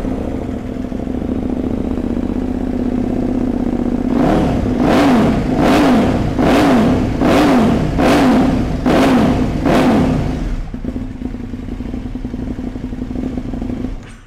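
A 2021 KTM 1290 Super Duke R motorcycle idles steadily, then snaps through a quick series of about seven sharp throttle blips before settling back to a loud, close idle, with no talking.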